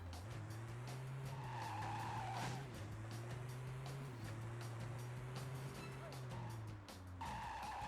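A fast car in the video game Driver 3 with repeated tire squeals and skids through twisty turns over a steady droning engine, with a player talking over the sound.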